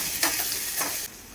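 Mixed vegetables with capsicum lightly frying in a pan, a steady close sizzle broken by two quick stirring scrapes, then the hiss drops away at the end, with no talking.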